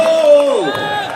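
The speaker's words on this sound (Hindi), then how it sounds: "और वापस से जोरदार तालियां होनी चाहिए दोस्तों।" An audience at an RCM gathering cheers loudly, with a sharp whoop sliding downward over a dense, close crowd roar for a brief moment.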